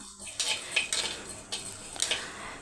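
Spices roasting in a pan while being stirred, with repeated scraping strokes of a spoon against the metal and a light dry sizzle, close and steady.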